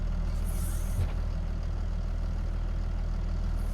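Tractor engine in a farming simulator running at a steady, loud low drone with a continuous rumble and a brief hiss-like burst near the start, the level swelling slightly as a cab window opens.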